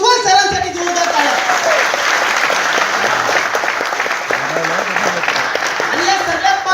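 Loud, sustained applause from an audience at a company event honoring a speaker, dense clapping filling the whole stretch, with a voice briefly heard at the start and some faint murmuring underneath.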